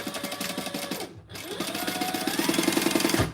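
A sewing machine runs steadily while stitching the seam of a crossbody bag, its fast regular needle rhythm pausing briefly near the middle before resuming and stopping with a low thump at the end.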